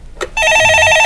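A telephone rings on a stock market call-in show, a loud sustained electronic trill starting after a brief click and continuing to the end.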